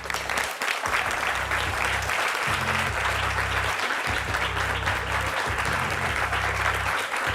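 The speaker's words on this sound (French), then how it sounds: "On peut l'applaudir, s'il vous plaît?" Loud, sustained applause from a French TV studio audience, a dense continuous roar of clapping with low, humming musical tones running underneath.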